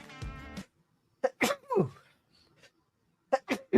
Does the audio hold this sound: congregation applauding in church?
no